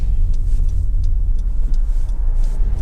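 Honda CR-V 2.0 i-VTEC EX 4x4 five-door pulling hard through fourth and fifth gears, a steady close engine rumble and road roar from inside the cabin with brief dips at each gear change.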